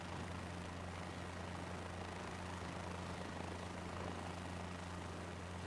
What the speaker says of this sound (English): I have full control over the helicopter